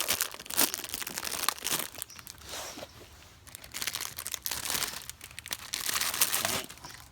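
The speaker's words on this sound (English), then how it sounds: "I'm going to open Coflex or vet wrap type wrap." A package of Coflex vet wrap being torn open for a bandage change, with loud bursts of close plastic crinkling and crackling coming in uneven waves separated by brief quieter pauses.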